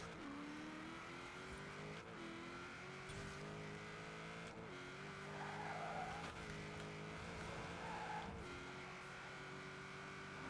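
A tuned car with a V8 engine swap, rated over 1,000 horsepower, roars as it accelerates in Forza Horizon 4, its engine note climbing steadily through several gear shifts with brief dips, loud and continuous without speech.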